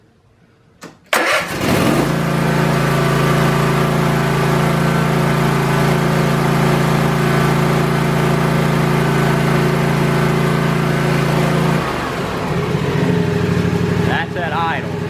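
A small engine starts with a sharp catch and then runs at a steady idle, a loud continuous hum with even low harmonics, settling to a slightly different pitch near the end.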